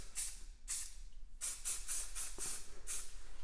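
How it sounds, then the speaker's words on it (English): Aerosol spray paint can of gloss white hissing in a series of short bursts, about seven sharp sprays with brief pauses between them, close and clear with no talking. "I'm just going to go ahead and spray some gloss white over that."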